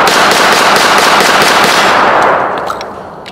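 CZ P-10F .45 ACP pistol fired rapidly at a shooting range, a loud dense string of shots that blur into a continuous roar before tapering off near the end.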